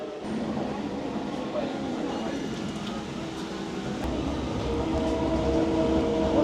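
A third-class train in Sri Lanka, bound for Colombo Fort, rumbles and rattles steadily at close range, a continuous low clatter that swells slightly toward the end.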